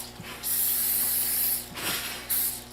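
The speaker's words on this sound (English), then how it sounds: "it says not to spray it because there's enough butter in there, but I always do just because it's easier to get out." Cooking spray hisses into a 9x13 baking pan for Nanaimo bars in a series of close, sharp bursts, one long spray followed by shorter ones, with faint clicks of the nozzle between them.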